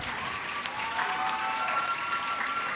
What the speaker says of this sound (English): A round of applause for the promotion in 1st Battalion.